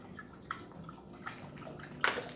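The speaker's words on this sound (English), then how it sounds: "then you need right at 2 cups of water" Purified water pours into a small cooking pot for a vinegar pie filling, giving a faint, quiet splashing with a few brief louder splashes near the end.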